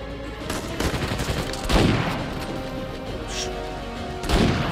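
Gunfire in an Uncharted 4 firefight, with repeated loud shots and crashing bursts over a dense battle din, plus a sharp blast near the end.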